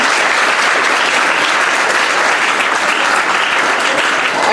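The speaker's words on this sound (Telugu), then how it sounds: "సో మీరు ఒకవేళ ఇది యాక్సెప్ట్ చేస్తే ఒకసారి గట్టిగా చప్పట్లు కొట్టాలి" Loud, dense applause from an audience at a Hindu student gathering, sustained steadily throughout without any break.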